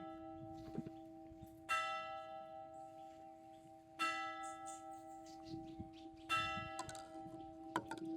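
Church bell tolling several slow, ringing strokes a couple of seconds apart, each with a long sustained hum decaying between hits, heard clearly with no talk.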